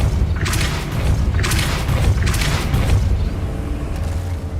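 Depulso spell cast in Hogwarts Legacy, heard as a few booming whooshes over a steady low rumble of game ambience, with no talking.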